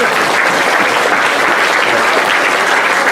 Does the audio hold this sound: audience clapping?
yes